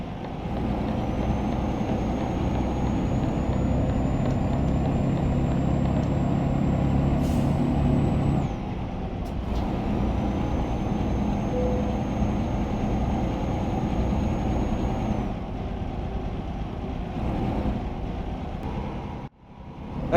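A DAF truck in Euro Truck Simulator 2 drones at full throttle, a steady loud engine roar with a high whine riding above it, easing briefly mid-run before pulling hard again.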